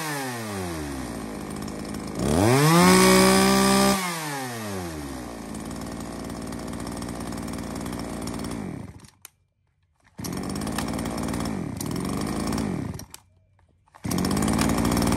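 A Shindaiwa 1029 chainsaw runs loud and close, idling then revving hard with rising and falling engine pitch, cutting out briefly twice before restarting, with no voices.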